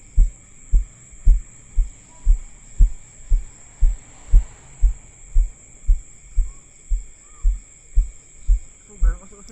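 A boat motor throbs at sea in a steady, even pulse of low thuds, about two per second, heard close and muffled, as if through the hull or underwater, with a faint high hum above.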